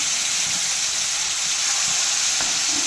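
Mango sandesh mixture is poured into a hot pan, producing a constant bright sizzling hiss with faint stirring scrapes underneath, loud and close, with no talking.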